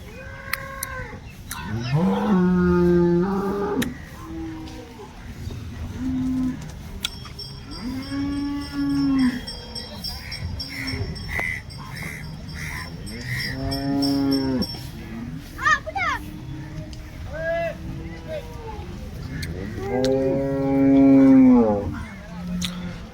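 Several loud, drawn-out cow moos at the weekly Wednesday cattle market in Loni, close by, separated by pauses with faint background chatter and bustle.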